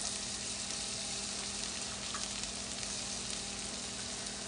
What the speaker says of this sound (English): We're going to have this garlic fry in the curry